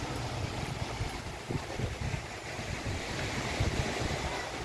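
Black Sea surf washes steadily onto the beach at Tsarevo, a continuous broad roar of breaking waves with some wind buffeting the microphone and no talk.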